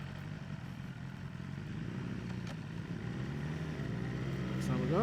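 A 2023 BMW S1000R is ridden with its quick shifter, giving a steady, close engine drone under wind noise that swells louder toward the end, with a brief break as a gear clicks through.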